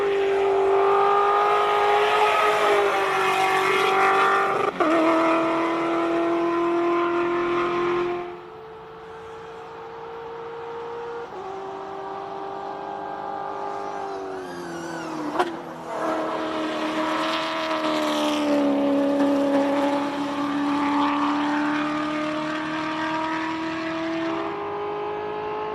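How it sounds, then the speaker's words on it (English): A hillclimb race car with a Nissan GT-R engine screams through repeated hard accelerations, its pitch climbing and dropping between gear changes, loud and close with a brief dip midway, at Simola Hillclimb. "It's got a GTR engine in it."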